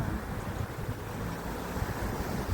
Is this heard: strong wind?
yes